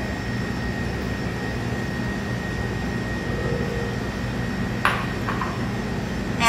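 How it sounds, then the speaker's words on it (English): A stand mixer fitted with a paddle attachment creams butter for vanilla cupcakes, giving a steady, even motor whir throughout, with a brief clink near the end. "So if you have stand-up mixer, use your paddle attachment."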